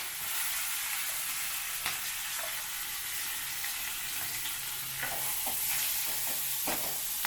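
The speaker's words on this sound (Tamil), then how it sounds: "உளுத்தம்பருப்பு, கடலைப்பருப்பு பொரியும் போது பெருங்காயம், இந்த வெங்காயம், கருவேப்பிலை, பச்சை மிளகா" Urad dal, chana dal, onion, curry leaves and green chilli fry together in hot oil, producing a low, steady sizzle. Occasional soft scrapes and knocks of stirring come through, with no talking.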